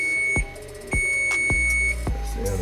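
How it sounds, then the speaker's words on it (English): A kitchen oven timer beeps as an hour of baking crack cake ends, giving a steady tone broken by several sharp clicks over a low hum. "1 hour is up, and you got beep, beep."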